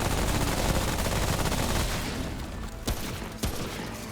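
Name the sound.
gunfire from a gun in Remnant: From The Ashes video game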